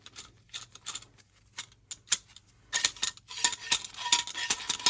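A cheap Parkside woodworking F clamp rated at 2,700 newtons being released, a string of sharp metallic clicks and ticks, sparse at first and then quicker and louder, close by.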